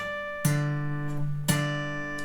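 Two sharp guitar attacks mark a short legato and tapping phrase, each blending a bright chiming harmonic with a sustained low bass note. The notes ring out cleanly with no voices.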